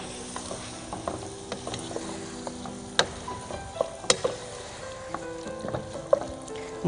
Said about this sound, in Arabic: نخليهم يتقليوا كيكا باش نفوحوا توا